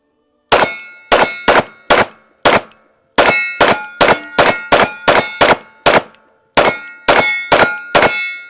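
Rapid pistol shots from an FN 509T handgun, sharp loud cracks fired singly and in quick clusters with short gaps, no talking.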